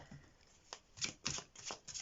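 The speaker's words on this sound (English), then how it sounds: "While I'm shuffling the tarot cards" Tarot cards shuffled by hand, a few quick riffling bursts of papery card noise, close and moderately quiet, with no talking.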